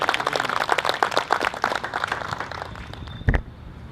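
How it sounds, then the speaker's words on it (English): A crowd at a community walk supporting law enforcement applauds with dense, steady clapping that gradually thins out and fades, ending with one louder thump. "a round of applause for all of our law enforcement officers."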